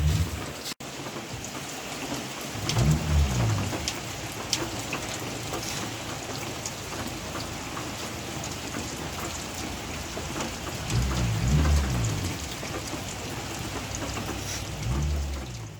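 Heavy rain pours steadily on a rural Portuguese property, with low rumbles of thunder rolling in three times, distant and deep beneath the constant hiss of the downpour.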